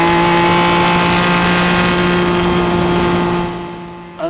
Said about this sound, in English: coming out of Madgwick there's a rise in the revs